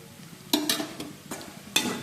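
Salted meat frying crisp in a pan, a continuous low sizzle punctuated by several sharp scraping strokes as it is stirred, no talking.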